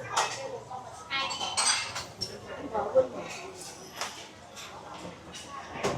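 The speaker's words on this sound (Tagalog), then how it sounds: "Hugas pa ng pinggan." Plates and cutlery being washed at a small market eatery, scattered clinks and clatters of dishes over a busy background with people talking nearby.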